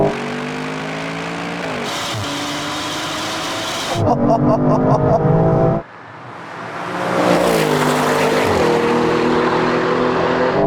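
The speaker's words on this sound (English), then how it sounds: "It's the change to second gear, this thing just takes off." An Aston Martin V12 car accelerating hard in a drag race after shifting into second gear, a loud, close engine roar that drops briefly at the shift and then surges and builds again.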